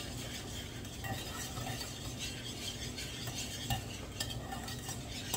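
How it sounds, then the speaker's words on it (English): A whisk scrapes steadily around a bowl of homemade pudding, working along the bottom in a continuous close churning rasp with small clicks. No voices. "You want to make sure that you're whisking it really good, getting everything off the bottom."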